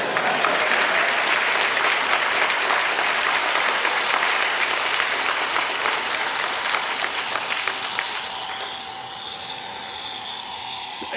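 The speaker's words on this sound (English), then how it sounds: "This doesn't deserve a round of applause?" A lecture audience at a cooking-science class on gelation bursts into dense, loud applause that holds steady for several seconds, then thins and fades, leaving a faint steady tone behind.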